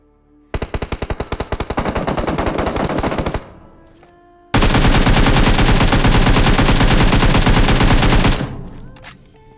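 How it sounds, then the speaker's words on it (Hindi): Rapid automatic gunfire in the mobile battle royale game Battlegrounds Mobile India: a loud burst of distinct repeated shots for about three seconds, a short pause, then a longer dense stream of fire, with no talking. "गोलियों की आवाज़ें"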